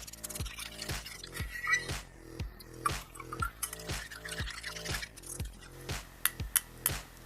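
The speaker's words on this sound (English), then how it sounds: "Put some sugar in there and then give it a stir." A spoon stirs sugar into a cup of coffee, making a steady series of light clinks and soft liquid swishes repeating roughly twice a second.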